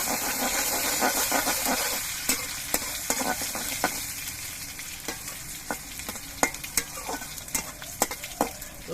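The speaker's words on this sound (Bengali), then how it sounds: "রসুনটা আমি কয়েক সেকেন্ড ভেজে নেব" Crushed garlic sizzles in oil with green chili and nigella seeds for a tilapia tel jhal, a bright, close frying hiss. Repeated sharp scraping clicks come from stirring the pan.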